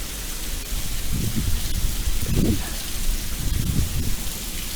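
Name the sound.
rain falling on river while kayak fishing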